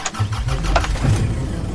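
A car engine cranks and catches, then settles into a steady low rumble at close range, with no talking over it.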